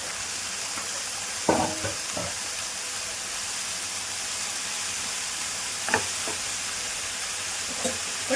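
Green chillies fry in a pan for an amaranth leaf stir-fry, giving a steady quiet sizzle and hiss with a few soft stirring clinks and scrapes scattered over it.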